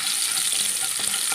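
Nigella seeds and green chilies sizzle steadily in hot cooking oil, a continuous close crackle with no voices over it.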